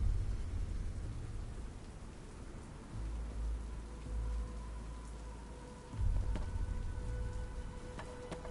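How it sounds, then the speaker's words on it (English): Steady rain hiss in a video game, a dense even wash of falling drops with low rumbling swells at intervals and no talking. "What's with all the rain?"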